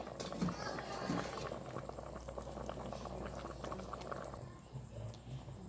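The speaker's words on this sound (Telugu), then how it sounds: "ఒక పావు గంట సిమ్లో పెట్టుకుంటే బాగుంటుందండి." Fish curry with coriander leaves simmering in a pot on the stove, a steady low bubbling under a voice talking throughout.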